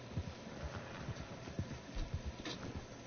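Faint, rhythmic hoofbeats of a horse in a PS4 video game, soft irregular clip-clops under a low background hiss.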